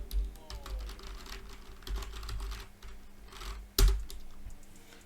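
Keys tapping on a computer keyboard during an HTML and CSS coding session, a steady run of soft, quick clicks with a sharper louder tap near the end, no voices.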